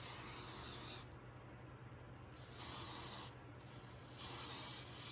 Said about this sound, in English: You just want to take your heavy duty hairspray.